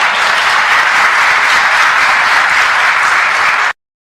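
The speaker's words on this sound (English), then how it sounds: "They're all clapping" A large audience claps in a dense, even wash of applause, loud and continuous, then cuts off abruptly near the end.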